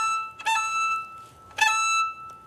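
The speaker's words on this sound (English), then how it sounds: "You might recognize that from Mario when you collect coins." Two bright, ringing two-note chimes sound about a second apart, each a quick rising blip that lingers briefly before fading: the Super Mario coin-collect sound played by a live orchestra.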